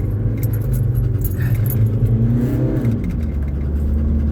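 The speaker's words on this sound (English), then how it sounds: "car's acting up a little bit. Don't like cold starts." A car struggling on a cold start, its engine turning and rising unevenly with a whirring labour, accompanied by light metallic rattling, close and moderately loud.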